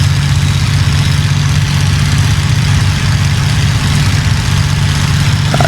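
A Spitfire's piston engine idles steadily in a WW2 flight simulator game, a loud, even, low rumble that holds without change throughout.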